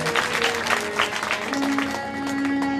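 A gathering at a Shiv Mahapuran katha claps in a quick, rhythmic patter, blending with a sustained musical drone and held tones in a reverberant hall.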